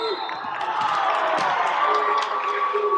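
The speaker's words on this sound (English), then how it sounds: "You can hear how the crowd likes that call" Gym crowd at a girls high school basketball game between Earlsboro and Varnum reacting to a foul call, steady cheering and clapping with scattered shouts, an announcer talking over it throughout.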